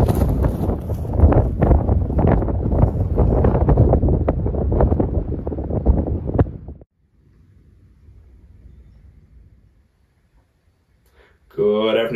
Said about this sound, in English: It is really windy outside